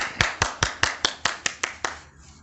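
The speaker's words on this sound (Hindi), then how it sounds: "तो सबसे पहले जोरदार तालियों के साथ स्वागत कीजिए कांग्रेस के" About nine sharp, evenly spaced claps ring out one after another at a political candidates' public meeting, each crisp and close, then stop abruptly.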